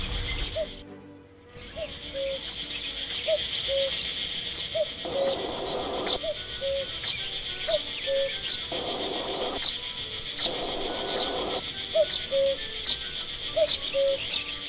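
A cuckoo calls repeatedly in The Night of the Rabbit, its short two-note hoots coming at a steady, unhurried pace over a layered ambient game soundscape with a faint high shimmer.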